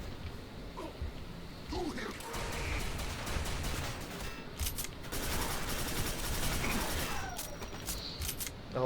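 Rapid gunfire from the video game Quake 4 rattles in dense, continuous bursts with sharp repeated shots, filling the whole stretch at steady loudness.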